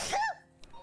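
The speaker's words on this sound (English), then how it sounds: "That was a violent sneeze." One sharp, violent sneeze bursts out close and loud, then fades into a short quiet with a faint breath afterward.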